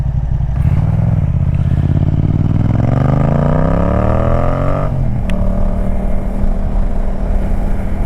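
A Yamaha MT-07 motorcycle engine revs up through rising gears with a loud, throaty exhaust while riding, then settles into a steady drone; close and continuous, no talking.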